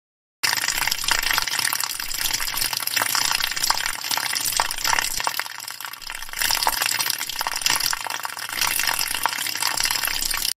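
Water pours steadily into a ball, a continuous splashing gush with hissy, bubbling texture, close and fairly loud, with no voices.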